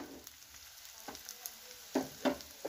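Whole spices for a fish curry masala fry in a pan over medium heat, giving a soft steady sizzle with a few sharper scraping stir clicks near the end.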